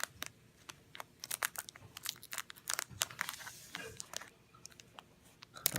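Scissors snip open a foil Topps Series 2 baseball card pack, giving close, irregular crinkles, tearing and sharp cutting clicks in quick succession with no talking.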